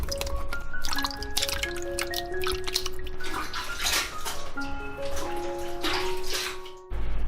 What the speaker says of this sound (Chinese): 冬菇我们先来清洗干净。